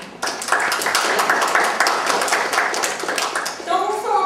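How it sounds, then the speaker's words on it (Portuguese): Dense, steady applause from an audience at a talk about LibreOffice, with many hands clapping continuously for about three seconds before a voice comes back in at the end. "eu pedi uma salva de palmas para Paulo José"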